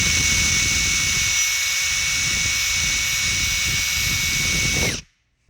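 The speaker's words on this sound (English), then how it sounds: "And now we're gonna proceed to the drilling." A power drill bores steadily through a Chevrolet Corvette rear diffuser for about five seconds, a loud continuous whine with a high tone, then stops abruptly into silence.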